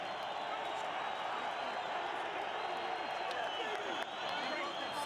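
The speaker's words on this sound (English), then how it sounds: "See some of the Irish faithful in the crowd here tonight celebrating" At a boxing world title fight, the arena crowd, Irish fans among them, cheers and claps in a steady, wide roar, with a commentator's voice over it.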